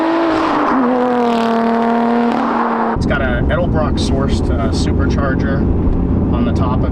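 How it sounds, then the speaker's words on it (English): Lotus Evora 400 with a supercharged Toyota-sourced 3.2-liter engine, first a sustained rising engine tone, then a sudden loud roar with revving bursts as the car drives hard. "Uses a Toyota Camry sourced engine."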